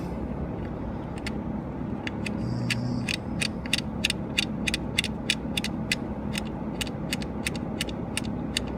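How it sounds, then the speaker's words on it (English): A ratchet tightening a small nut on an injector harness clicks in a quick regular series of sharp close clicks over a steady background engine-like hum, no talking. "all you gotta do is get that little nut on there and of course tighten it up"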